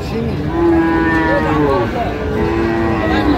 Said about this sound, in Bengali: ফ্রিজিয়ামের ষাঁড়